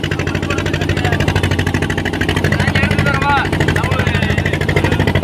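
A steady, loud boat engine drone with a rhythmic chugging pulse runs throughout, with a voice talking over it.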